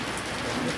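Steady, dense rainfall in Central Java near Belik, toward Banyumas, makes a continuous close hiss of drops on surfaces with no break and no voices.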